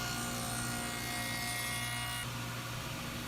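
Hand saw cutting a wooden tenon for a sleigh bed, a steady continuous rasping of teeth through wood with a constant machine hum beneath, loud and close throughout.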